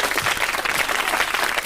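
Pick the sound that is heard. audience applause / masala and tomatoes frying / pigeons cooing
audience applause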